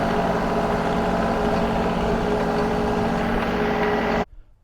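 A John Deere tractor engine runs steadily and loud up close while driving in circles grading a backyard, a continuous drone that cuts off abruptly near the end.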